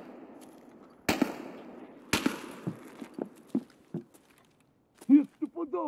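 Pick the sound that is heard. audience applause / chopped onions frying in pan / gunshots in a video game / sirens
gunshots in a video game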